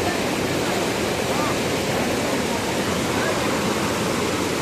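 Forceful waterfall swollen by heavy rain, a dense unbroken roar of rushing water, loud and steady throughout.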